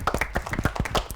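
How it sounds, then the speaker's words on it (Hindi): A group claps rapidly and unevenly in a classroom quiz, a dense, close patter of many hands. "भाई जोरदार तालियां नीलगिरी के लिए"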